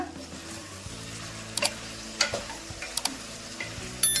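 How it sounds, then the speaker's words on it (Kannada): Tomato masala with curry leaves and Kashmiri chilli powder frying in a pan, a soft steady sizzle broken by scattered spoon scrapes and light clicks, fairly quiet with no voices. "ಇದೊಂದು ಸ್ವಲ್ಪ ಫ್ರೈ ಆಗಬೇಕು. ನೋಡಿ, ಇವಾಗ ಫ್ರೈ ಆಗಿದೆ."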